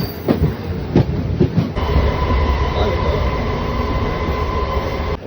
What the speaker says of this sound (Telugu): ఇంకా ట్రైన్ వచ్చింది, ఇంకా స్టార్ట్ అలా